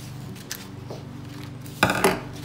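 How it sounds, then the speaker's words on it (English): Scissors snip through paper to shape palm leaves, with a couple of soft clicks and then one louder crisp cut, heard close and alone. "you're gonna take the scissors, you're gonna make sort of like a crescent moon"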